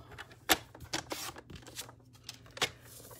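A paper trimmer slicing card stock for a shaker card, giving a few crisp, sharp snaps and sliding scrapes with short gaps between, close and fairly quiet.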